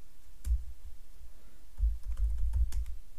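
Typing on a computer keyboard in short clustered bursts of close, soft key clicks, with a brief pause between two flurries.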